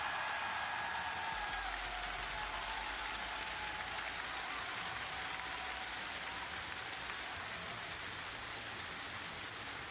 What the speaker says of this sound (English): Got a lot of cheers from the crowd.